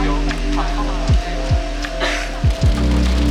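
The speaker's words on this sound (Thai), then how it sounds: "ปิดทลิปของ คลิปนี้นะคะ ด้วยฝนตก นะคะ" Rain falls steadily in Phuket as a dense, continuous hiss under a low background hum, with a few soft thumps and bumps close by.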